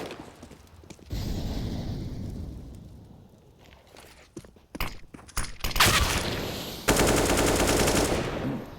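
Gunfire in Counter-Strike on the Dust 2 map during a DreamHack tournament match: several rapid bursts of automatic fire and sharp single shots, some close and loud, with footsteps and metallic clicks between them.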